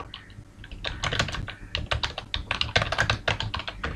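Rapid, uneven keystrokes on a computer keyboard while C++ code is typed, a close, steady run of clicks with short pauses and no voices.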